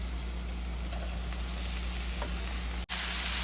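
Chopped vegetables and onion with salt sizzle steadily in a pan, a soft, even frying hiss with faint stirring clicks, steady until a brief dropout near the end, after which the sizzle returns brighter.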